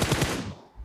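Rapid automatic gunfire in a battle royale esports match, three quick loud close cracks in a tight burst followed by a fading echo tail.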